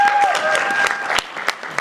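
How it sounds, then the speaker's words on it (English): Audience at a comic convention podcast panel clapping for a guest, a short, steady burst of applause that fades partway through. "Give him a round of applause."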